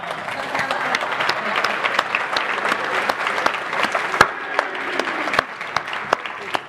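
Audience at the Formula Student 2023 awards ceremony applauding steadily and loudly throughout, a dense wash of clapping with a few louder claps standing out.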